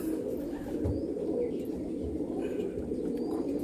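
Golden-eyed pigeons coo in a loft, low throaty coos repeating under a steady murmur of background noise, fairly close.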